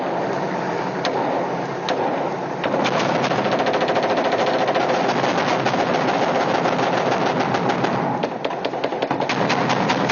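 Sustained automatic gunfire pours into a mosque minaret in Iraq, a loud, dense machine-gun rattle of rapid overlapping shots that continues almost unbroken throughout, with no voices heard.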